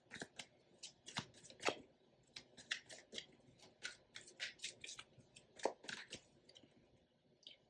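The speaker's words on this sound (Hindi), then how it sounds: "अब हम यहाँ पे टैरो कार्ड्स निकाल के देखते हैं।" Tarot cards drawn and shuffled by hand, a run of quiet crisp flicks and papery snaps in uneven bursts, close and soft, with no one talking.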